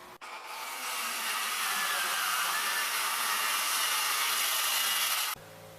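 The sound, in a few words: homemade DIY track saw making a cut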